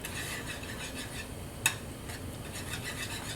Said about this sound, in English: stir it well with the whisk so it incorporates throughout